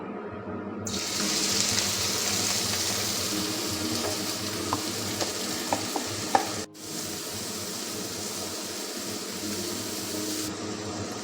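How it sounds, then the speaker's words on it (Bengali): A bright, steady sizzle of prawns frying in hot oil, with a few sharp crackles and pops, cutting out briefly near the end before resuming. "চিংড়ি মাছটা আমি অ্যাড করে দেবো একটু ভেজে নেবো সামান্য"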